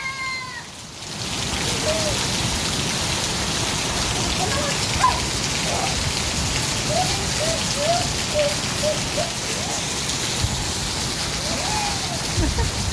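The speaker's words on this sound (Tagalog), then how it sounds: "Parang ngayon lang po nangyari yung buwan po ng February, inuulan." Steady rain hisses across the whole stretch, with faint chirping or mewing calls scattered over the constant patter.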